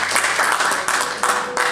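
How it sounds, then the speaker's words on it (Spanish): A church audience gives loud applause to the Lord during a sermon, a brief, full burst of clapping that stays steady and close throughout. "Dale un fuerte aplauso al Señor"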